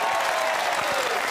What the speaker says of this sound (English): Round of applause for the guy.